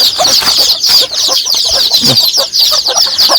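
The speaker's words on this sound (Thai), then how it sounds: "ไก่น้อย" A hen and her chicks on a farm make close, loud, continuous peeping and soft clucking, a busy chorus of high chirps with no voices.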